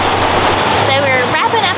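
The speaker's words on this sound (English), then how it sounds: "the beautiful 90-foot waterfall we came here to see today" The 90-foot waterfall at Pearson's Falls in a North Carolina forest, a loud, steady rushing roar of falling water, with faint voices in the background.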